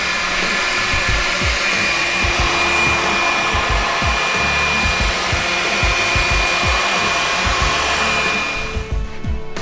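A heat gun blows steadily and loudly while warming a bent Honda Africa Twin motorcycle brake lever, its continuous airy roar holding even throughout before dropping away at the very end.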